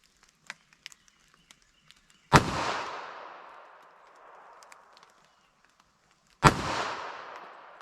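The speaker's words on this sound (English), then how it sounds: "Let's see if we get in this little LCP pistol here." A small LCP pistol firing .380 ACP rounds: two sharp, loud gunshots several seconds apart, each with a short echoing decay, separated by faint clicks and quiet handling.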